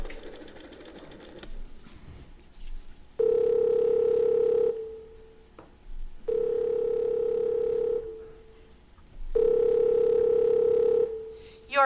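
A telephone being dialed to reach the operator in an old radio drama: a quick burst of clicking pulses, then three long, steady electric rings with short pauses between them. The sound is loud and close, and no one speaks.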